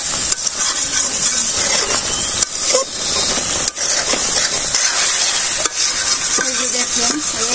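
Pointed gourd dolma with cumin powder being stirred and fried in a pan, a steady loud sizzle with scraping stir strokes and brief clattering bumps throughout.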